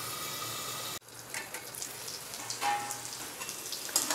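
Tomatoes sautéing in hot oil in a pan for a spicy tomato chutney, a soft steady sizzle with crackling pops, starting after a brief quiet gap and continuing close and even throughout.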